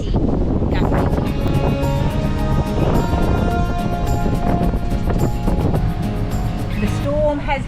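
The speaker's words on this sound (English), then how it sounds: "the wind is a little bit stronger than what they said. It's about 17 to 20 gusts." Strong wind in gusts of 17 to 20 knots buffets a Lagoon 450 catamaran under sail, a loud, constant roar mixed with rushing water and rattling rigging.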